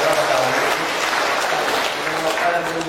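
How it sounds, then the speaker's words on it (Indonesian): A church congregation claps together in steady, sustained applause, a dense even patter of many hands at close range with no pauses. "Mari kita beri tepuk tangan kembali"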